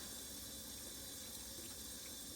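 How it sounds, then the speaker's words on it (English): Tap water runs steadily over beef ribs in a sink as they are rinsed before going into an Instant Pot, a continuous broadband splash with no speech. "I'm just rinsing the old blood off"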